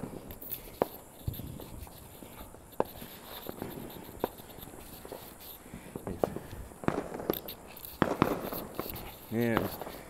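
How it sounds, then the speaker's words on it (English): Fireworks go off ahead of a car nearing a traffic light on the Fourth of July, with sharp, scattered pops and bangs at irregular intervals. A rapid crackling burst comes near the end, over a steady background of road noise. "there are some fireworks in front of me."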